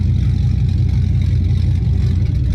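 A car engine idles through an exhaust fitted with a tuba tip, a loud, steady low rumble with even pulsing and no voices.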